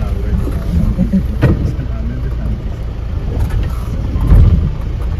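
Vehicle grinding along a dangerous mountain road from Salleri in Nepal, a loud rumbling engine with wind buffeting and bumps from the rough track, heard from inside close up.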